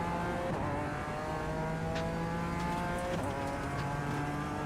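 A race car engine revs steadily in the iRacing sim on the Nürburgring Nordschleife during an endurance race, its sustained harmonic drone shifting pitch with gear changes, loud and continuous with no talk.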